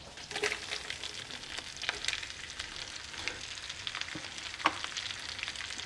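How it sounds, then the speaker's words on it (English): Onions, peppers and mushrooms frying in melted butter and hamburger fat in a pan, a steady close sizzle with occasional stirring scrapes and small pops. "We'll get that butter melted, along with the fat from our hamburger. And then in goes our onions, peppers, and mushrooms."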